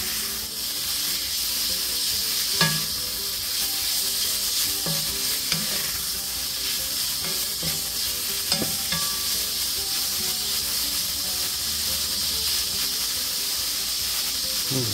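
Meat fries in hot oil for cheese steak egg rolls, a loud, continuous hissing sizzle with occasional stirring knocks and scrapes and no voices.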